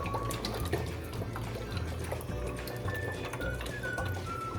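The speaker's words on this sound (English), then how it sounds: "I have the coconut milk already open, so I'm just going to put in some of the coconut milk" Coconut milk pouring into a pot of simmering soup, a steady low liquid wash lasting several seconds with faint high clinks and a soft bird-like chirp in the background.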